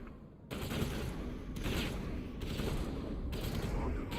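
Rapid bursts of gunfire from the Mass Effect video game come in several sustained volleys, loud and close, with short gaps between them and no talk over them.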